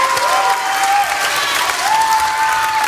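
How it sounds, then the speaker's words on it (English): Audience applauding a volunteer helper at a juggling and inspirational show, sustained loud clapping from a crowd with a steady high whistle-like tone running through it. "Let's give one more round of applause for Gideon for helping me out here."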